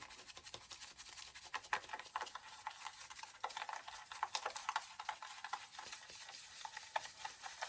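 Sugar being mixed with CBD oil by hand, a steady gritty scraping and stirring rasp that continues close up for the whole stretch, with brief louder scratches scattered through it.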